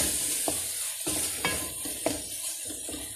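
Chicken sizzles steadily in a pot while a utensil stirs and scrapes against it in occasional taps, close up and with no talking.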